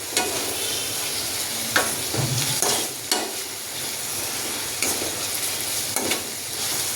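Curry leaves sizzle and crackle in hot oil for a Gujarati desi chickpea curry, with a steady frying hiss, scattered pops and occasional stirring scrapes, close and moderately loud.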